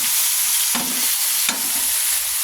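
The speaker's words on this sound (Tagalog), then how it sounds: "Lutuin lang natin ng konti hanggang sa mag-brown ng konti ang ating isda." Dalag fish being sautéed with aromatics in a hot pan, giving a constant close sizzle broken by two sharp spatula scrapes.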